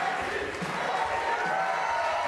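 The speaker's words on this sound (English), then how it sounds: "they're cheering his name here in Arlington, Washington" Bowling crowd at a PBA Tour Finals stepladder match in Arlington, Washington, a steady, fairly distant roar of many voices holding at an even level throughout without sharp peaks.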